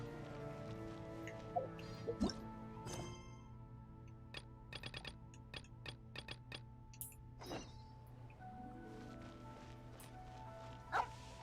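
A dog barks in Genshin Impact: a few yips and woofs scattered over game music with chiming tones and clicks, moderately quiet with no talk.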